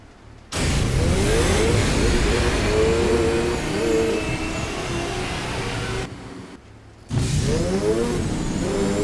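A Mazda RX-7 FD engine in the video game Need for Speed Edge revs loudly and steadily, then drops out briefly and surges back with rising exhaust tones, close and continuous.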